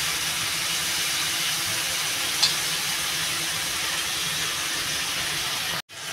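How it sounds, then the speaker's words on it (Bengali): Prawns frying in a pan until well reddened, for a Bengali prawn and elephant-foot-yam curry, give a steady, even sizzling hiss that runs unbroken and close up, with no talking. "চিংড়িটা বেশ লাল করে ভেজে নেব।"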